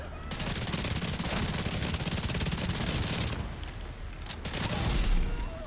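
Rapid automatic gunfire rattles through a gunfight in the shooter game The Division 2, with dense bursts of shots, a short pause, then a final volley. The firing stays at moderate loudness.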